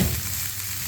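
Rice stir-frying with vegetable stock, garlic powder and black pepper in a hot pan, a continuous close sizzle with a soft scrape at the start.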